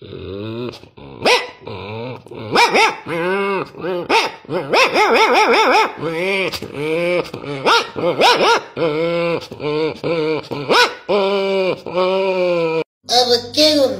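A voice imitates an angry dog, growling and barking in repeated rough bursts with snarling tones, close and loud, mixed with his own talking between the outbursts.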